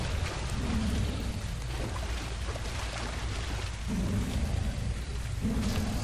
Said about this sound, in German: Wir haben mal wieder Regen.